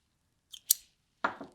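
Scissors snip thread to trim sewn pieces apart, with a few quick, close metallic cuts in two short bursts separated by a brief pause.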